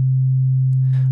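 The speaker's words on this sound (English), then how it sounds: "right now we have a sine wave" A pure sine wave tone from the Ableton Live Wavetable synth holds one steady pitch, loud and clean, with a faint click near the end.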